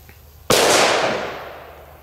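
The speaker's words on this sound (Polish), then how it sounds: "Odpalamy pierwszą petardę." A single Hammer H1 firecracker, a small two-gram banger, goes off outdoors with one loud, sharp bang that trails into a long, fading echo.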